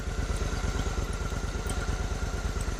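A Honda Shadow motorcycle engine idles steadily after a carburetor sync, a close, continuous low rumble with an even, rapid pulsing rhythm and a light clatter on top, with no talking.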